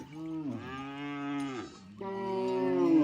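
Cattle mooing nearby in Ethiopia, herded by Karo tribesmen: two long, low, drawn-out bellows in quick succession, loud and clear with no talk.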